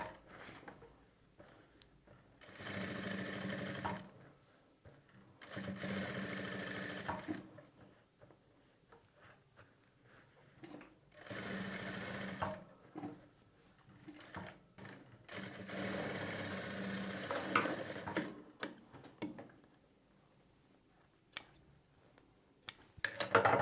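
A sewing machine runs in several bursts of rapid stitching along the edge of a blouse, each run lasting a second or two, separated by quiet pauses and small handling clicks, close and fairly soft.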